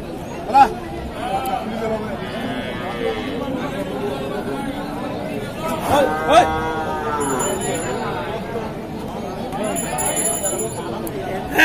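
Shahiwal, cross and local breed bulls moo at a busy livestock market, a few long lowing calls rising over constant crowd chatter and nearby talking voices.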